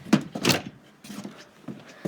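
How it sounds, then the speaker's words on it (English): A door in a treehouse is shut, with a couple of sharp knocking thumps near the start followed by softer rattles and bumps, fairly close and unaccompanied by talk. "Shut the door."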